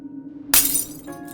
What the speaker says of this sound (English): All of a sudden, Emmanuel heard something shatter.